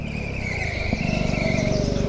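Racing kart engine held at high revs on a track, a close, loud buzzing drone with a fast pulsing rhythm that steadies and climbs slightly after a brief blip midway.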